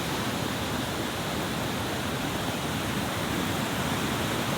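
A creek at a mountain camp flows steadily, making a dense, continuous wash of rushing water that stays even and fairly close throughout, with no voices.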